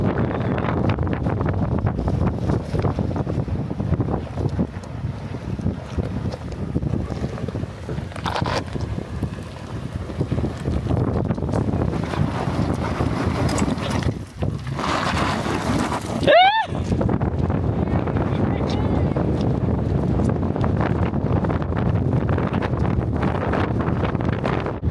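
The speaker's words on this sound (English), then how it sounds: "it is insanely windy" Strong wind gusting across mountains in southern Nevada, a steady broadband roar with buffeting against the microphone throughout, loud and constant with brief dips.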